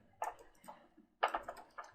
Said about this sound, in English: We'll go to Google and type download